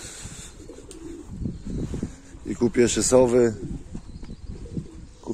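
Racing pigeons give soft, throaty coos in short bursts, fairly close by, while someone talks over them.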